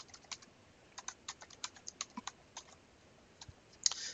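Hello world C++ code is typed on a computer keyboard in sparse, irregular bursts of close, quiet key clicks with short pauses between them.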